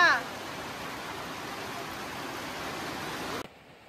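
Heavy rain pours steadily in a Bangladeshi village, a dense even hiss that holds loud for over three seconds and then cuts off abruptly.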